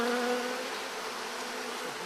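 Honeybees swarm around a backyard beehive where honeycomb is being built, a dense, steady droning hum up close, fading slightly as the clip goes on, with no voices.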